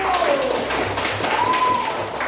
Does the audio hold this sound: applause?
yes